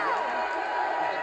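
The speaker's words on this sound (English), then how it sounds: "Now the crowd getting on their feet" Football stadium crowd at a women's lingerie football league game rising to its feet, a dense sustained roar of cheering voices filling the space, steady and loud throughout the short moment with a commentator talking over it.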